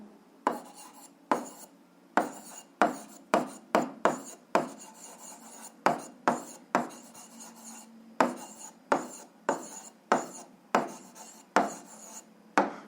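Pen strokes on paper while an answer is written down, a close run of quick scratchy rasps in short bursts separated by brief pauses, steady and repetitive throughout.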